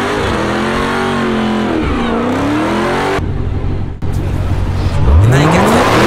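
Supercharged Dodge Charger Hellcat engine revving loudly and close, with sweeping pitch climbs and drops between blips, a sharp cut-off near the middle, then a strong rising rev at the end.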